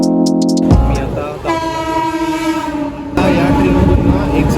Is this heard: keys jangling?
no